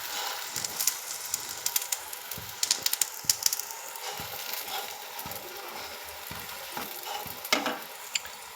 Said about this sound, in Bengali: লাল লাল করে এটাকে ভেজে নেব।